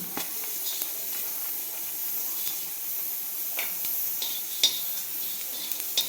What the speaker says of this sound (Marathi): सगळ्यात अगोदर आपण आता धने भाजून घेऊ